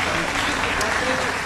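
Brief burst of steady crowd applause for a mariachi band at a live concert, a dense even clatter of clapping.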